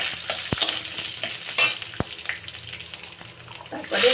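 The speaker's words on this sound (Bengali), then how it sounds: "ডালটা একটু ফোড়ন দিয়ে নেব। লঙ্কা দিলাম, তেজপাতা দিলাম" Dried chilli, bay leaf and panch phoron tempering in hot oil for dal, a loud continuous crackling sizzle with sharp pops and stirring sounds, swelling at the end.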